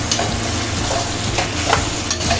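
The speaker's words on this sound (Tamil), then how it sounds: "இஞ்சி பூண்டு பேஸ்ட்டு சேர்த்து நல்லா கிண்டி விட்டுட்டு" Mutton with ginger garlic paste is stirred in a hot pan, with a loud continuous sizzle and repeated scraping strokes of the spoon at a steady rhythm, close up and alone.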